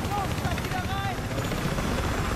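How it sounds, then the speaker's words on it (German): Helicopter arriving in the video game Battlefield 3, a continuous whirring rotor roar at moderate level under a dense game mix, with brief tonal game sounds near the start. "Jetzt kommt unser Heli."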